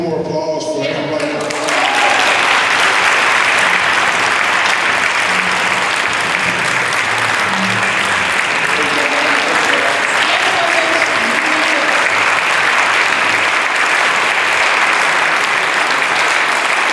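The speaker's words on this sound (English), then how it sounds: "Let's give one more applause for everybody." An audience at a Rotary club meeting's Four-Way Test student speech contest bursts into loud, sustained applause that fills the room steadily after a speaker's closing words.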